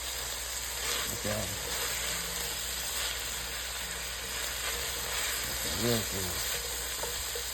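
Vegetables fry in butter in a pan, with a dense, continuous sizzle and steamy crackle close by, while a person briefly talks over it.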